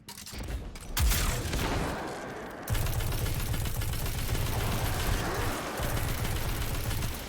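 Continuous heavy weapon fire in Destiny 2 during a Legend Lost Sector, K1 Revelation, with void snipers shooting from the back; dense rapid shots and booms run throughout, loud and sustained with a burst near the start.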